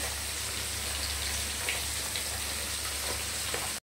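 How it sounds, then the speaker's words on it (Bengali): Paneer pieces fry in oil over low gas heat, giving a steady, even crackling sizzle that stays close and constant before stopping abruptly. "একদম গ্যাসটা কম করে দিয়ে পনিরগুলো ভাজছি"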